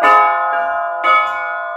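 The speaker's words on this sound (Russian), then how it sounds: "И они подходят к колоколам и на колоколах пытаются воспроизвести ноты отца Аристарха Израиля" Church bells ring a Rostov-style chime, three resonant strikes about half a second apart, each leaving a long sustained hum of overtones close by.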